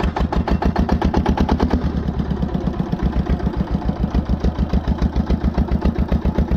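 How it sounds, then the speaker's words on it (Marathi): Fishing boat engine running steadily just after starting on a cold night, a loud, close, rapid chugging pulse that holds an even rhythm throughout with no talk. "आपलं इंजिन स्टार्ट झालेलं आहे"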